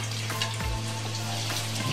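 Potato fries go into hot Saffola oil for a first fry, making a dense continuous bubbling sizzle that stays loud and even for two seconds, with no talking.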